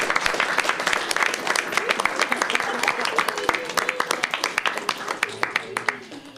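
Applause at a school district board of trustees meeting, a dense round of clapping that thins into scattered individual claps toward the end, with murmured talk underneath.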